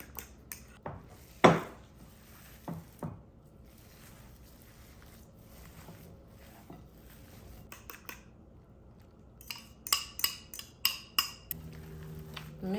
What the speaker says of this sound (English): Let's mix all this together.